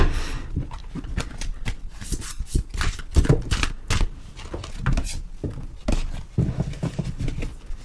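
Oracle cards are shuffled by hand up close, producing a series of quick papery riffles and soft slaps in irregular bursts, fairly quiet with small pauses between.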